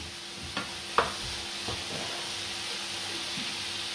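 Food browning in a pan, a steady soft sizzle and hiss with a few light clicks and stirring knocks, close and without talk.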